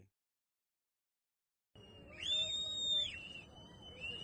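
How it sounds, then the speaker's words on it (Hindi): A shrill warning whistle rises and falls over a rumbling outdoor background in the mountains of Uttarkashi during flash floods, fairly distant and sustained for a few seconds. "ये सीटियाँ बजा रहे हैं ताकि लोग सुने"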